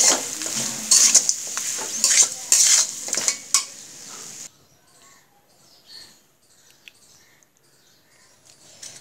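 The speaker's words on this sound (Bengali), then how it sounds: "এখন ভালো করে নাড়াচাড়া করে নামাই নেব" A spoon stirs cabbage curry with roasted ground spice powder in a pan, scraping and clinking loudly for several seconds before giving way to faint, sparse kitchen sounds.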